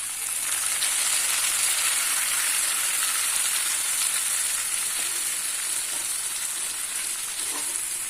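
Spice paste mixed with water hits potatoes frying in hot oil for a Bengali dhokar dalna, giving a loud, steady sizzle that stays even and close throughout with no voices.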